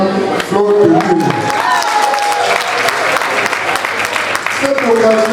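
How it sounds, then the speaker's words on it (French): Enthusiastic audience clapping for a woman at a memorial celebration of life, steady and close throughout, with voices and singing-like tones rising over the applause. "Je vais encore vous demander d'applaudir pour cette dame, Flore de Lille."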